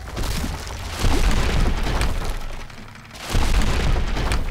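A house crumbles in the video game Godus, heard as two surges of loud rumbling, crashing debris separated by a brief lull.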